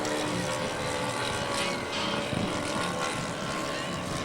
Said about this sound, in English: Fairchild airplane, that's BT-19.